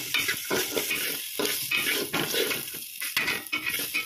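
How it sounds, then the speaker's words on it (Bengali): Gobindobhog rice and capsicum are fried in a pan with salt. Steady sizzling is broken by repeated scraping strokes of a spatula stirring it up close. "ক্যাপসিকাম, অল্প নুন, আগের থেকে জল ঝরানো ধুয়ে রাখা গোবিন্দভোগ চাল সব দিয়ে ভালো করে ভাজতে হবে"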